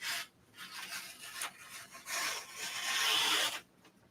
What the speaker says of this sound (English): I'm just going to trim this down manually.